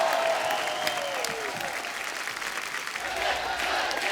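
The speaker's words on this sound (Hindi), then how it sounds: "एक बार जोरदार तालियां अजय सर के लिए।" Loud, sustained studio-audience applause greeting film star Ajay Devgan on a comedy talk show, a dense wash of clapping with crowd noise that dips briefly and swells again.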